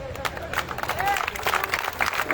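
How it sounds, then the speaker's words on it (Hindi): Clapping from a crowd at a Congress party rally in Nagrota, with scattered claps over murmuring voices and a brief whistle-like tone. "ये तो तालियां बड़ी बड़ी बजियां ने"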